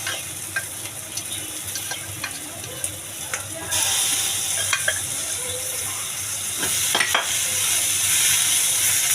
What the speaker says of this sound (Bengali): এই যে আমার পটলের চুটুটা আর চিংড়ি মাছটা ভাজা ভাজা হয়ে গেছে।